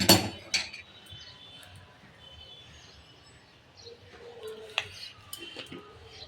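A metal karai (wok) set down on a gas stove, with a sharp clattering clank at the start, then quieter rustles and a few more scattered metallic clinks in a kitchen.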